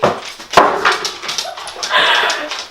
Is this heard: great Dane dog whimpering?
yes